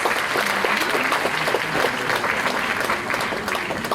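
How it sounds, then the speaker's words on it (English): A school prize-distribution audience gives young achievers a steady, full round of applause, many hands clapping evenly and continuously at moderate loudness, with no break. "These young achievers truly deserve a huge round of applause."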